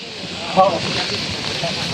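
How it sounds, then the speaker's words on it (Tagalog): Strong typhoon wind roars over Manila Bay in a steady, loud broadband rush, with a brief gust swelling near the start and muffled voices faintly underneath. "grabe ang lakas ng hangin"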